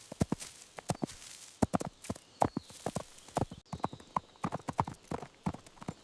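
Steady clip-clop of horse hooves walking, close and rhythmic, with a brief snort or whinny partway through.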